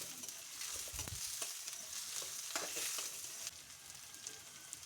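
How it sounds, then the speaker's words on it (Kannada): Onions frying in oil with green chillies and curry leaves: a steady soft sizzle with crackles and occasional stirring scrapes, close and fairly quiet, easing slightly near the end, with no voices. "ನೋಡಿ, ಫ್ರೈ ಆಗ್ತಾಯಿದೆ ಈರುಳ್ಳಿ."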